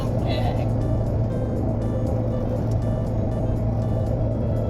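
A car drives along on a long road trip, its engine and road noise forming a steady, unbroken droning hum from inside the cabin, while people talk over it.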